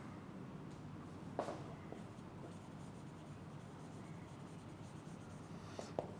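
A teacher writes out a sentence, the pen or marker producing a continuous quiet scratching rub, close and faint, with a couple of soft taps.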